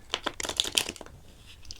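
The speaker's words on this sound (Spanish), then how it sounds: "Vamos a barajar un poquito estas cartas." Tarot cards being shuffled during a horoscope reading, a quick run of soft crisp riffling snaps and card slaps over about a second, close and clear, then fading to quiet handling.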